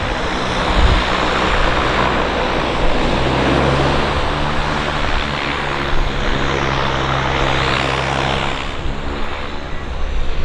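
A Caravan propeller aircraft's engine drones steadily and loudly at a busy downtown harbour airport, a constant roar with no pauses.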